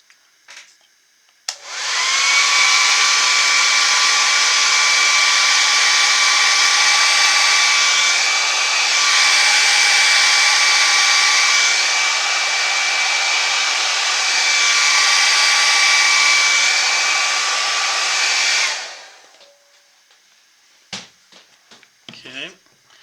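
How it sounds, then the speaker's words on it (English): A hair dryer blows loudly and steadily for about fifteen seconds on a wood carving of a bear, then clicks off, leaving quiet with a few small handling noises. "Hit it with the hairdryer here for about 15 seconds."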